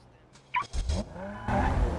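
Racing video game engine sounds rev and rise with a brief tire squeal as a car pulls out, then a steady engine roar settles in; a few short voice-like bursts occur early.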